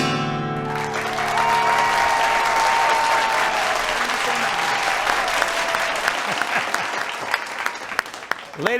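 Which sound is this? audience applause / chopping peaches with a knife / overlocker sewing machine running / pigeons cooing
audience applause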